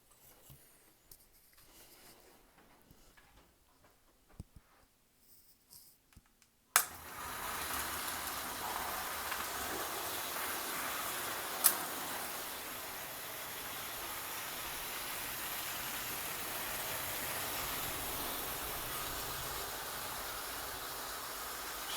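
An American Flyer 350 Royal Blue model train locomotive pulling a freight train: faint handling noises, then a sudden steady, loud whirring rumble that runs on without pause, with one sharp click partway through.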